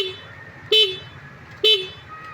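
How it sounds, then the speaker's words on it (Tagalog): A Yamaha scooter that was caught in floodwater and won't start sounds its horn in two short, loud, nasal honks, evenly spaced, against a quiet low hum. "lakas yung busina."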